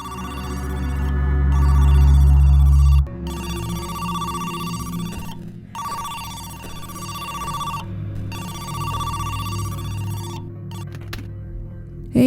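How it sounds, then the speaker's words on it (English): A telephone rings in the video game Who's Lila?, after a low rumble. The electronic ring comes in about four evenly spaced bursts with short silent gaps, clear and fairly loud. "A phone call."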